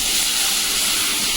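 Water hits a hot pan of crab curry cooking with cauliflower and potato, giving a loud, steady sizzling hiss close by.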